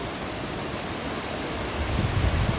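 Steady broadband roar of rushing water at Tinuy-an Falls in Surigao del Sur, a continuous dense wash of sound with no pauses that swells slightly louder toward the end. No voices are heard.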